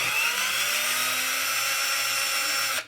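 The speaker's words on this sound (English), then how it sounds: "never tighten down bolts going into plastic with a power tool because you will strip the plastic. I am only loosening them" A power tool loosening bolts on a Traxxas X-Maxx RC truck gives one continuous close, bright, high whine that stops abruptly at the end, with no speech.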